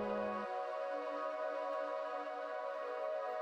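A lush synth ambience pad, EQ'd and stereo-panned with Shaper Box, sustains a dense, steady layered tone. A lower note drops out early while the wide chordal texture continues alone at a moderate level.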